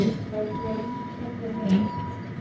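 The Bernina Express stands at Alp Grüm mountain station, giving off a steady low rumble with a faint tonal hum and a soft hiss near the end.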